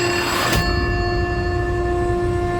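A telephone rings in a steady tonal trill that carries through the whole short stretch, fairly loud and alone, with no voices.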